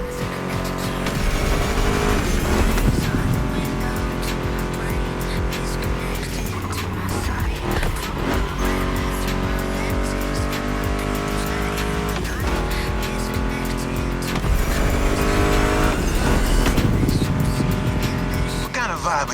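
A Ford Mustang GT muscle car engine roars steadily in the racing game The Crew Motorfest, with tire squeal and skidding over a loud, sustained rumble, mixed with music and a voice talking throughout.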